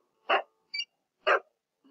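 A dog gives a few short, separate barks at close range, three distinct yaps about half a second apart in an otherwise quiet room.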